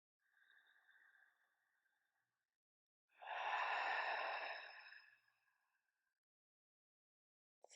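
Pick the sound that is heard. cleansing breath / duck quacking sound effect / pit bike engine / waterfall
cleansing breath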